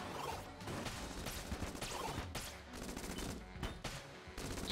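Dragon fire gun in the video game Exit the Gungeon blasts in rapid, dense bursts of crackling shots and crashes, loud and continuous with brief pauses, alone with no talk.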